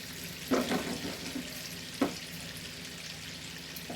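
Butter and a little oil sizzle in a pan for French toast, a steady soft frying hiss with a couple of brief louder stirring scrapes.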